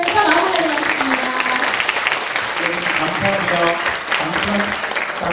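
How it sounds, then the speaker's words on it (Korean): Audience applause fills the room at the close of a youth forum lecture by a prosecutor, a steady dense wash of clapping from a large crowd that holds for the whole stretch without talk. "마지막으로 우리 김경수 부공장님께 큰 박수 부탁드리면서 마무리를 하겠습니다."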